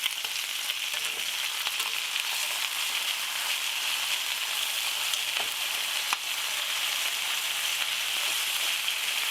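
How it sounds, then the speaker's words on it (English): Pork pieces frying in a pan, a loud, dense, continuous sizzle that holds steady throughout, with a few faint knocks and no voices. "We want that side to fry up and brown."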